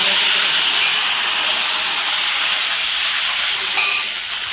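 Hot oil poured over ivy gourd and green chili chutney, producing a loud, dense, continuous hiss and sizzle that holds steady and eases off slightly at the end.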